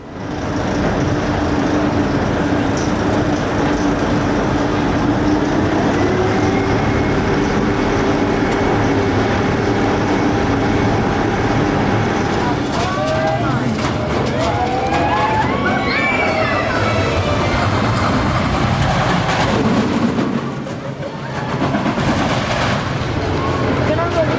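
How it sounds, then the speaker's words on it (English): A Schwarzkopf looping roller coaster, Nessie, rumbles loudly and steadily along its track, with rising mechanical whines and clattering rattles as the train climbs and plunges, while riders and onlookers talk over the ride noise. "Ride on Nessie, formerly Nessie the super roller coaster that Mark told us about."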